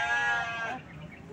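A sheep bleating at a livestock market, where Merino Texel crosses and Garut sheep are kept: one drawn-out, wavering bleat close by that fades into quiet background noise.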